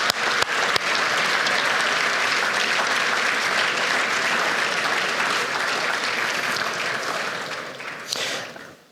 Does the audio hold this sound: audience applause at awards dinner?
yes